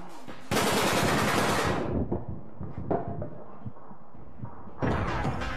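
Machine gun fire in the online shooter APB Reloaded: a loud, rapid automatic burst up close, then scattered thuds and smaller shots, before another fast burst breaks out at the end.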